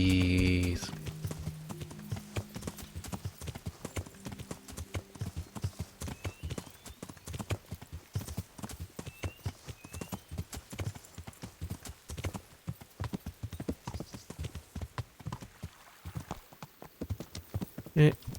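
Horse hooves clip-clop steadily in a medieval setting during a siege mission in Kingdom Come: Deliverance, a rhythmic stream of close hoof strikes with brief whinny-like calls and low game sounds beneath.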